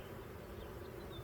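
Honey bees hum steadily around an open hive while frames of brood and larvae are worked during a colony split, a dense continuous buzz with no pauses.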